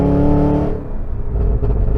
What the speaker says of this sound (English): Your strength is in your internal combustion, because when you go electric, you're gonna lose this.